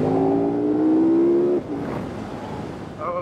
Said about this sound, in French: Ah, il y a un moteur qui a beaucoup plus de punch